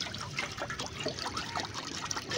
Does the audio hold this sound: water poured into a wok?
yes